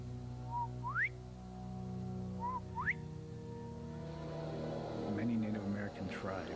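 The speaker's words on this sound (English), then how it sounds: "his bird calling whistle attracts the skunk ape" Two short rising calls from a bird-calling whistle, each a quick chirp sweeping upward, repeated after a pause over a steady low hum, with faint scattered sounds following.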